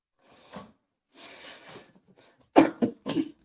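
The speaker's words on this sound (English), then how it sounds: "I got a little cough on me." A man coughs several times, with a few soft, breathy coughs followed by two or three sharper, louder coughs close to the microphone.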